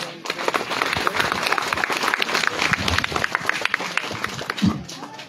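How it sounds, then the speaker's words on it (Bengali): An audience breaks into applause for a couple, Khrist and Chandrika, at a celebratory evening event: dense, sustained clapping from many hands at moderate distance, with crowd murmur mixed in throughout. "এখন আমরা স্বাভাবিকভাবেই খ্রিস্ট এবং চন্দ্রিকার জন্য সবাই জোরে করে তালি দেয়"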